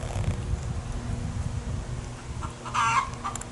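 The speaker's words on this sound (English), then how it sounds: "Chickens and everything." Chickens clucking in a farmyard pen shared with goats, with a low rumble running underneath. A brief louder burst of fowl calls comes through near the end, fairly close.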